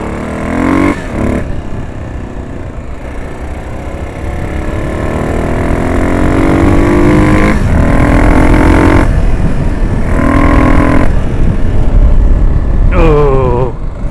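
A car engine running on fresh gasoline, loud and close, with a steady idle rumble interrupted by several rising revs.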